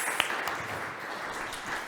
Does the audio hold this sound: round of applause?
yes